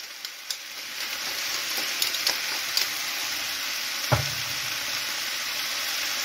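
Mushrooms sauté in a hot pan with sausage, a steady bright sizzle broken by a few sharp clicks of stirring and one thump near the end, with no talk.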